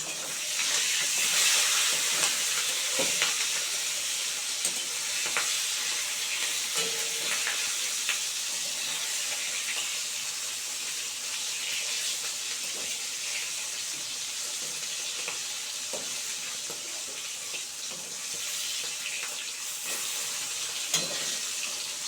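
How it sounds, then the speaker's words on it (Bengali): Fresh pond fish fries in hot oil in a pan, a steady close sizzle with scattered small pops and crackles throughout, no voices. "একটু ভালো করে ভাজা হোক তারপরে উল্টে দেবো"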